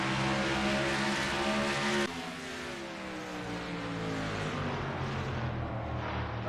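Stock cars racing in a video game race at New Hampshire Motor Speedway, a loud, layered engine roar with rising and falling pitches as cars pass, dropping suddenly partway through before the drone continues.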